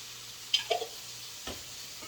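Beef and broccoli in sauce get stirred in a pan, giving a few faint scraping clinks over a soft, low sizzle, with one more light knock near the end and no talking.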